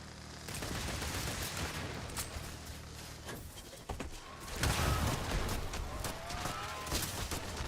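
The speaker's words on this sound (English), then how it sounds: "Who's shooting over there?" Sustained gunfire in the space game Starfield, with dense bursts of shots and crackling volleys continuing throughout, growing heavier about halfway through.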